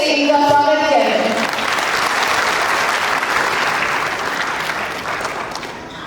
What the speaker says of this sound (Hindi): इसके लिए जोरदार तालियों से इनका स्वागत करें।